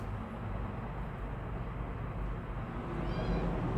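Cats meowing indoors, a brief meow rising near the end over a steady noisy background, fairly faint and with no talking.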